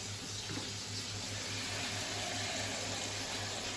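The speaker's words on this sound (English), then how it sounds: "I'm going to soak them in cold water." Cold tap water runs steadily from a faucet into a sink or bowl to soak noodles, a continuous close rushing stream with a low hum beneath it and no talking.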